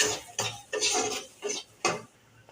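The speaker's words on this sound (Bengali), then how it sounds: "নেড়ে দিচ্ছি" Eggplant with salt and turmeric being stirred in a pan with a utensil, giving a series of about five scraping, clinking strokes against the metal, close and fairly loud, with no talk.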